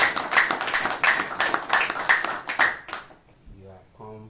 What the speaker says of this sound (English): May we give ourselves a big round of applause.